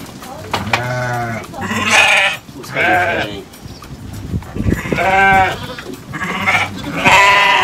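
Sheep bleating repeatedly at a farm around feeding time, several loud nasal calls close by in quick succession with short pauses between them, while a person talks.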